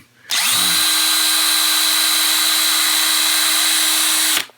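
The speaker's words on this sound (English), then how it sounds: "my electric drill with a little 1/2-inch driver bit that has steel wool inside" Electric drill spinning a 1/2-inch driver bit packed with steel wool, used to polish cartridge case ends: a loud, steady whine that spins up, holds constant for about four seconds and cuts off, with no talk.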